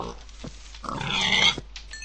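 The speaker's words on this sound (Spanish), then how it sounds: "Gracias, cerdo." A pig in the video game Minecraft gives a short run of grunts and oinks, fairly close and clear, with no talking over it.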